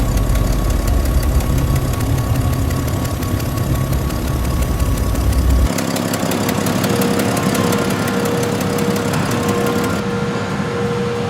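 Tractor and transporter truck engines rumble steadily nearby at a rice paddy field, a continuous mid-pitched drone with a knocking idle that shifts tone partway through.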